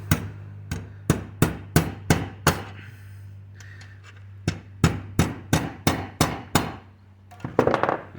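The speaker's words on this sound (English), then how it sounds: "Just hammer down on it to make sure that it's nice and flat." Sharp hammer blows strike metal flat on a bullnose Ford F-150 truck part in a steady rhythm, about a dozen ringing clangs in two bursts separated by a short pause.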